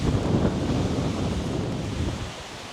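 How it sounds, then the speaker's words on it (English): Strong wind gusts across an open golf course and buffets the microphone in a constant low roar that eases slightly near the end, with no one speaking. "it's gusting out"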